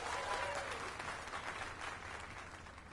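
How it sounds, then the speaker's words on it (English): A crowd applauds steadily in the video game Dragon's Dogma 2, a dense wash of clapping that gradually softens over a few seconds. "Let us give a round of applause for young Fulvio"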